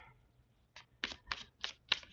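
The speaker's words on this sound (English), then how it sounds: "Give the deck a shuffle." Five quick riffling bursts of a card deck being shuffled, close and crisp, following a moment of near quiet.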